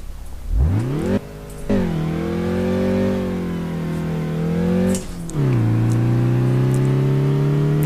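Driver's own car accelerating hard through the gears, engine pitch climbing steadily then dropping at each upshift before rising again, loud and close with no talking.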